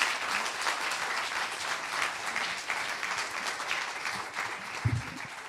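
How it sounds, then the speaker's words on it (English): Audience applause at UC Berkeley's Collider Cup startup pitch event: a steady, dense wash of clapping that fills the room and holds evenly from start to finish. "So let's give them a big round of applause for everything."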